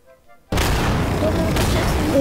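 A mega-bomb in Garry's Mod explodes after a moment of quiet, a sudden loud boom that rolls into a sustained, rumbling blast roar.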